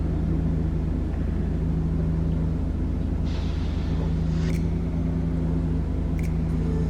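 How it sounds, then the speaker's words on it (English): A car sits idling with the air conditioning running, a steady low engine hum and drone holding evenly throughout, with faint higher whirs briefly above it and no talking. "I might leave the car on because the air running."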